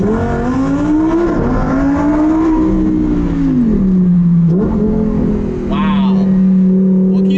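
A Lamborghini Huracan Performante engine drones steadily, heard from inside the cabin with windows down, its pitch rising and falling with gear changes and acceleration, loud and continuous throughout.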